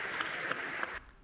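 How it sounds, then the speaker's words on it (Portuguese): A chess audience at a blindfold simultaneous exhibition breaks into steady applause for Magnus Carlsen. The dense clapping carries for about a second, then cuts off abruptly into quiet. "aplausos aqui pro Mozart do xadrez"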